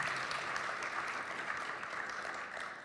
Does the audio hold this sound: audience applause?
yes